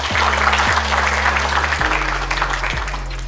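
Audience applause at a children's forum congress in Kediri, Indonesia: dense, steady clapping from a seated crowd, fairly loud and continuous over a low hum, with no one talking.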